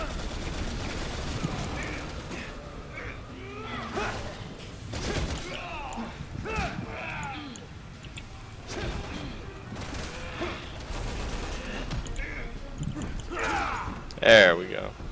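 Gunfire hitting the player in Resident Evil 6, bursts of shots and impacts scattered through a noisy game mix with a louder hit near the end, while people talk over it.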